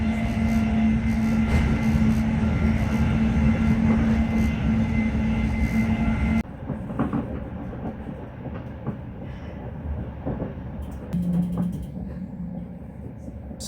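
Greater Anglia train pulling into a station, a loud steady rumble with a sustained low hum that drops away as it slows, followed by quieter rattling and brief squeals of braking near the end.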